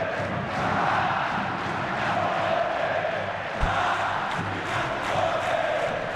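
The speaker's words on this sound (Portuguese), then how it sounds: "A torcida grita o nome do Ricardo Gomes" Vasco football fans in a stadium chant coach Ricardo Gomes's name during a Copa Sudamericana match against Aurora, a large crowd roaring in rhythmic waves, steady and loud throughout.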